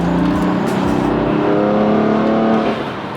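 A BMW M4 engine revs hard up close, its tone climbing steadily and then easing back down near the end of the rev.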